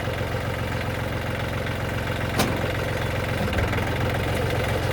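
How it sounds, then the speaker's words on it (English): A tractor engine that powers a Woodland Mills WC68 wood chipper through its PTO idles with a steady, even rumble, broken by one brief sharp click midway and no talking. "we're going to start up the tractor"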